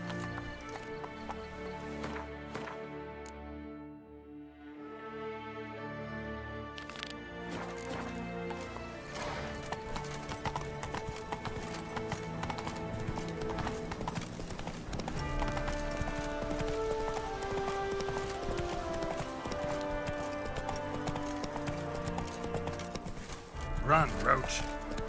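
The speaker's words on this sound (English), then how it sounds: "Run, Roach" Hooves of the horse Roach clip-clop in a fast gallop in The Witcher 3, a steady rhythmic drumming that runs through the whole stretch over game music, with a voice speaking at times.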